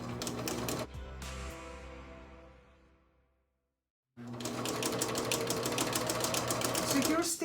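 A sewing machine stitches a two-piece shirt collar in rapid mechanical bursts, stopping for a few seconds of near silence before running again steadily and close.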